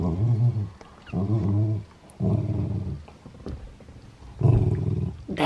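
A dog growls over a ball in repeated deep, rumbling bursts, each about a second long, separated by short pauses, loud and close, with whimpering tones in between.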